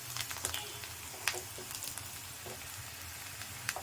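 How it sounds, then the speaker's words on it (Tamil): Small amaranth greens hit a pan of sautéed onions with a soft, faint sizzle and frying crackle, punctuated by a few sharp clinks and stirring ticks. "இப்போ நம்ம கீரையை இதில் போட்டுக்கலாம்."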